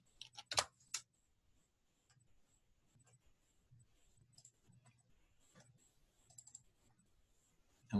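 Brief bursts of computer keyboard typing, close and faint, with a quick cluster of clicks at the start and scattered light key taps afterward in a quiet room.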